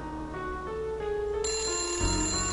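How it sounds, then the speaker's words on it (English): Telephone ringing in the Nancy Drew game Message in a Haunted Mansion, a loud, steady electronic bell tone with a brief shift partway through, close and alone with no talking. "Let's answer the phone."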